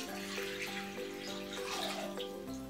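Water is poured from a cup into a big bowl, a steady splashing, gurgling stream running continuously for a few seconds at close range.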